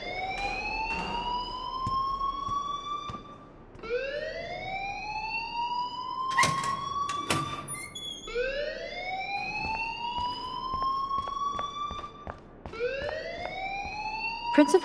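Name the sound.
school fire alarm ringing in the video game Life Is Strange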